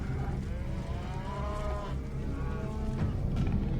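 Livestock cattle lowing, several drawn-out moos with rising and falling tone over a steady outdoor background, moderately distant, with no talk.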